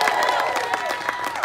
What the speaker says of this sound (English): There it is, circus applause.